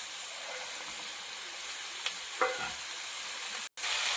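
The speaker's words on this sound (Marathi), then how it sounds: "आता परतून घेऊ." Chopped cabbage, tomato, potato and peas sizzle softly and steadily while being stir-fried in a wok, with a couple of faint scrapes from stirring and a brief dropout near the end.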